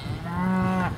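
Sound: cattle mooing, calling for their calves

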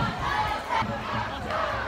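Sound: large climate strike protest crowd chanting

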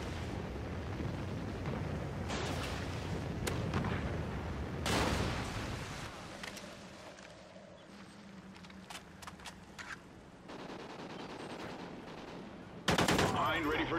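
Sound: Trinity rocket killstreak strike in video game Call of Duty Ghosts

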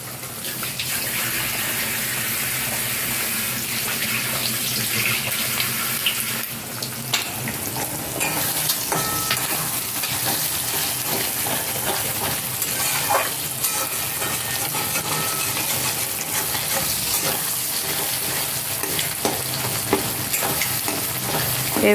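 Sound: two eggs frying and being stirred in a pan

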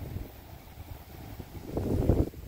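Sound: wind

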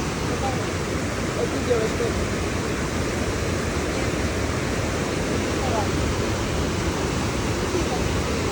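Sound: Carpathian waterfall rushing water

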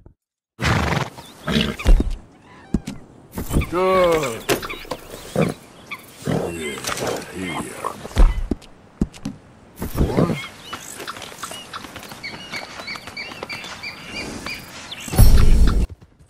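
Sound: thoroughbred horses neighing and hooves, from video game Red Dead Redemption

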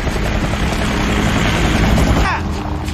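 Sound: helicopter flying, film scene

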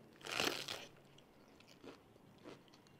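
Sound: chewing crunchy papaya salad (som tam)

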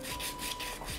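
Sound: sanding a cut panel for a decor

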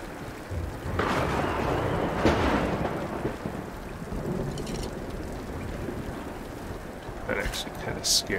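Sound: thunder and rain in video game Tomb Raider (2013)

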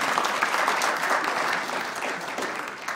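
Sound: applause

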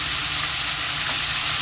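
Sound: chicken coated in egg and cornstarch frying in oil

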